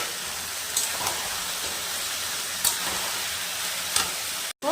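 Boiled potato and chickpeas are frying with onion and spices in a pan, giving a steady, close hissing sizzle with a few soft clinks of stirring.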